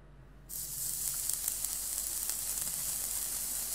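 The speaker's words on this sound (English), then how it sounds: "The knife slices through with magnificent ease as the cheese boils and pops into the air" A red-hot 1000-degree knife slices into cheese, a sudden loud sizzle starting after a short quiet moment and continuing as a steady frying hiss with scattered small pops.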